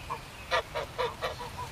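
Geese honking in a backyard, a quick series of about six nasal honks at moderate distance over low background noise.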